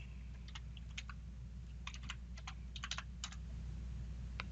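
A passphrase is typed on a computer keyboard as a quiet run of irregular key clicks, some in quick clusters, over a steady low electrical hum with no talking.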